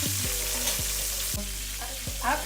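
Pork chops fry in a pan for smothered pork chops, giving a steady close sizzle with a few scrapes and stirring knocks, and no one speaking.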